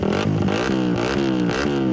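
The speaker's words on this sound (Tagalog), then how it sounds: "kapag narinig na ang nakabibinging tunog ng tambutso" A motorcycle's loud, harsh exhaust revs hard over and over in rising, falling surges, close and continuous, with no talking.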